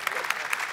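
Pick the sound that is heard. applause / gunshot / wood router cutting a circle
applause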